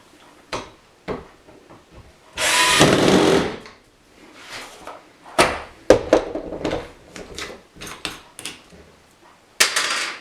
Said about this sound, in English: This is the only drill I have handy, drill bit.